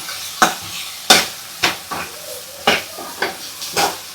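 Cashew curry with coconut masala stirred in a frying pan, Kokni style: a series of about eight sharp scraping strokes of a spoon against the pan, close and fairly loud, with light sizzling between them.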